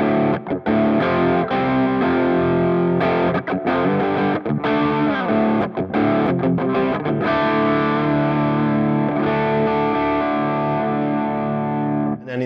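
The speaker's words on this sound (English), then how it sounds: "a pushed clean that just about goes into breakup territory" Electric guitar run through a Friedman Dirty Shirley overdrive pedal set to a pushed clean tone on the edge of breakup, played as sustained chords and melodic lines, loud and continuous with no voices.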